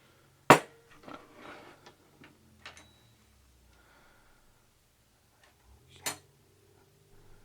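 Metal Indestro sockets drop and clatter onto a hard surface in two sharp, close metallic impacts, one early and one later, with faint small rattles and shuffling in between and no talk.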